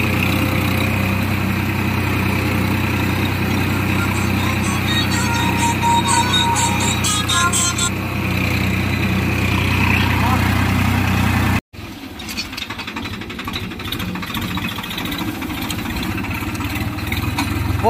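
A four-wheel-drive tractor engine runs steadily under load while ploughing black soil in a field, a loud continuous mechanical drone with a brief dropout partway through before the rumble resumes.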